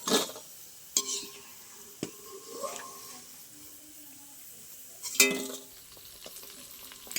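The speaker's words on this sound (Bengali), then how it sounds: "একই রকমভাবে আমি বাদ বাকিগুলো সব ভেজে নেব" Potato and semolina tiffin snacks fry in hot oil with a soft, quiet sizzle, broken by a few sharp clinks and scrapes of a utensil against the pan.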